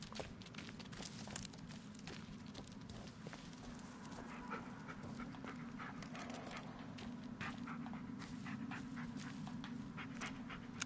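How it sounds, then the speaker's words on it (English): A dog pants rapidly and steadily in the Blair Witch video game, close and continuous, with light rustling footsteps over a low ambient hum. "Oh, where's the dog going? Okay, the dog's gone up here."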